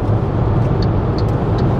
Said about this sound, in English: Wind noise and road noise have increased